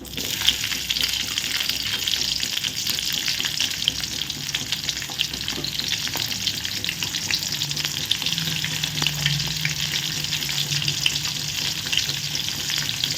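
Onions and green chillies sizzling hard in hot oil with mustard seeds and fennel, a loud, close crackling fry with a few stirring clinks and spatters, continuous and without speech.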